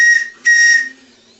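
A live steam model of the tug boat Resolve sounds its steam whistle in two close, loud, shrill blasts, the second longer and fading into a soft hiss.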